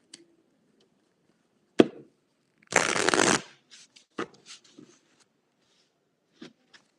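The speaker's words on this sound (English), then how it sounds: "Reshuffle." Tarot cards shuffle in a short riffling burst, preceded and followed by sharp taps and soft card handling in a quiet room.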